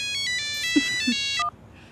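A phone ringtone plays a bright electronic melody of short repeated tones for about a second and a half, then cuts off, heard alone and fairly close in an indoor home setting.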